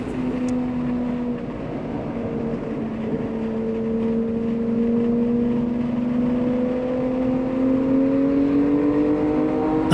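B9 Audi S5 Sportback driven on the Barber race track, a steady engine drone with a rising tone as it pulls through a corner, close and continuous with no talk.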